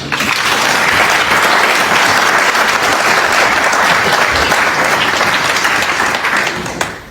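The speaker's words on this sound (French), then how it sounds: "demander qu'on applaudisse le comité d'organisation" A crowd at a public gathering applauds the organising committee with steady, dense clapping that stays loud and even for about seven seconds, then eases off briefly at the end.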